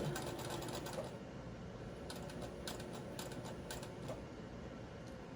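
A sewing machine back stitches a doll's blouse with a quiet, rapid mechanical whir and a few brief pauses between runs of stitching.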